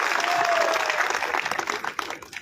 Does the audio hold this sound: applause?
yes